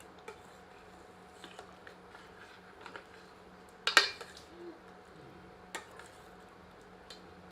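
A metal ladle works through mutton curry in a pot, giving sparse faint clinks and scrapes with one louder clatter near the middle over a quiet kitchen background.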